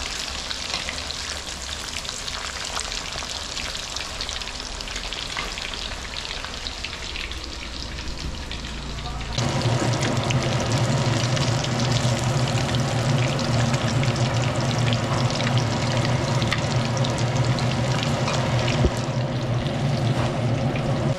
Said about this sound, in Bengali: এদিকে এখন আলু ভাজা চলছে।